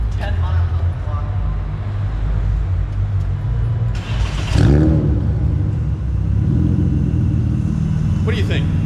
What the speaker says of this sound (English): Let's hear a start up.